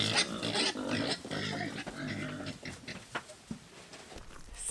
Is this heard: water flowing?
no